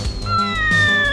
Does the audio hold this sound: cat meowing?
yes